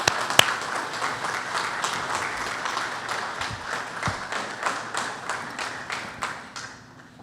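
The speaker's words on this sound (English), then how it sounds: "Let's give a round of applause." An audience applauds a retiring university play-by-play announcer at a ceremony, a sustained round of many hands clapping with a few louder individual claps standing out as it slowly tapers off.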